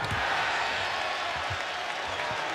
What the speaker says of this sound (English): Get a little buzz out of the crowd here